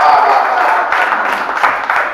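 A crowd at a Hindi poetry gathering claps together, a brief, continuous rattle of many hands with faint voices beneath it.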